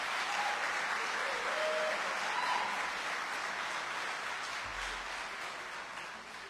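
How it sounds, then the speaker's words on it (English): A large audience at the 2022 Big 33 Celebration gives a dense, steady round of applause, continuous and fairly loud, fading a little toward the end. "let's give them a big round of applause and a thank you"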